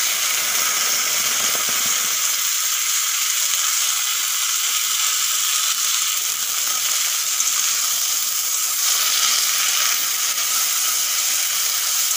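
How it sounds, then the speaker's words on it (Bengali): Masoor dal frying in hot oil in a wok as ridge gourd dal is made, giving a steady, even sizzle and hiss that carries on unbroken throughout with no talking. "ডালটা একটু ভেজে নেব, তাই কড়াইতে তেল দিয়ে দিচ্ছি"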